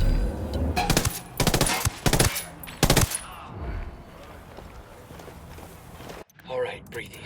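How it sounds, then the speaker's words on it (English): A narco's minigun in Ghost Recon Wildlands unleashes several loud, rapid bursts of automatic fire near an airstrip, then drops to quieter shuffling footsteps and scattered movement, with voices talking now and then. "Narco with a damn minigun."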